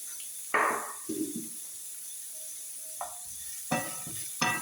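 Chickpea curry masala sautéing in a pan, with a few separate stirring scrapes over a faint, steady sizzle, quiet and close with no talking.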